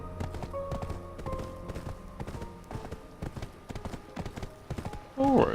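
Hooves from a horse in the video game Black Desert clatter in a quick, rhythmic galloping clip-clop, close and steady, with music tones underneath and a brief burst of talking at the end.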